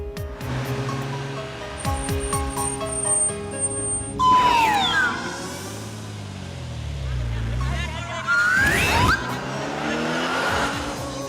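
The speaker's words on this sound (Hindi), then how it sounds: "अच्छा हो तुमने टाइम पे ब्रेक मार दिया, वरना एक्सीडेंट हो जाता।" A car brakes hard with screeching tire squeals and skidding over engine noise, loud and close in two sharp bursts, with music and a voice in the mix.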